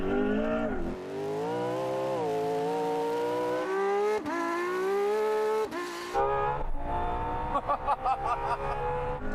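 McLaren P1, Porsche 918 and LaFerrari hypercars launch in a drag race, engines howling loud and rising through gears with sharp shift breaks, then a rougher, choppier roar near the end.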